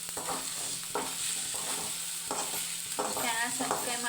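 Egg rice frying on low gas in a home kitchen pan, with a steady sizzle and intermittent scraping stirs in a loose rhythm, close by and fairly soft.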